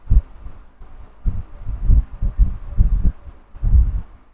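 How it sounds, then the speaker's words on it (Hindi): Sewing machine stitching a folded fabric strip into a drawstring for a kurti, a loud close low rumbling whir in uneven bursts that pulse and stop several times, no voices. "इस तरह से हम 2 फोल्ड रखते हुए सिल लेते हैं"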